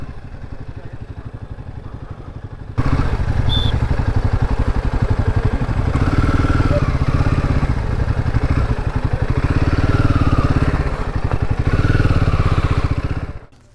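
A motorcycle engine near Muktinath, Nepal, runs quietly at first, then jumps abruptly louder into a steady close-up chugging idle with rhythmic clatter and small rises in revs before cutting off at the end.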